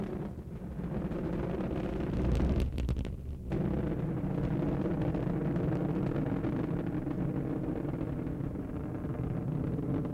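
Space Shuttle Atlantis lifting off on the STS-71 mission to Space Station Mir, its three main engines producing a steady, loud, broadband roar with deep rumble that continues unbroken throughout, no voices heard.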